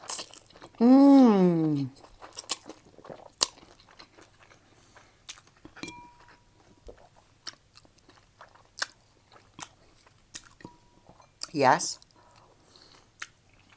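Biting and chewing crispy fried chicken with bacon, close wet crunches and soft chewing clicks scattered throughout, after a short hummed "mmm" at the start and another near the end.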